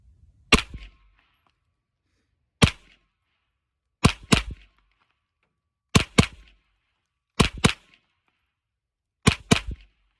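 Smith and Wesson FPC carbine fired at an outdoor range from about 10 yards, a string of sharp, loud shots in spaced single, double and triple bursts with silence between.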